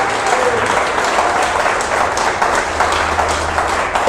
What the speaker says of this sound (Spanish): Dale un aplauso a ese Jesús.